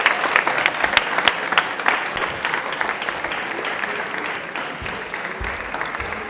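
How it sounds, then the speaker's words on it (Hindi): A studio audience at a televised quiz show breaks into loud, sustained applause. Many hands clap continuously and densely throughout. "तालियां बजा दीजिए जोरदार।"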